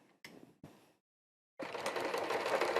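A sewing machine runs steadily, stitching ultra suede for a pair of chaps, after a few short separate bursts of stitching with pauses between. It is close and fairly loud, with no voices.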